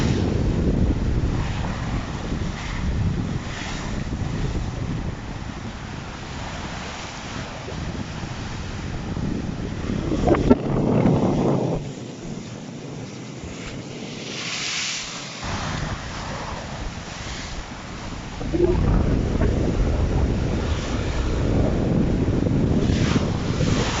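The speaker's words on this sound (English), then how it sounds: "It's not so much the waves, it's when it hits the seawall." Storm waves driven by Storm Isha surge and crash against the seawall at Whitby, a steady roar of surf under heavy wind buffeting the microphone, with a deep thudding impact midway and a renewed loud surge near the end.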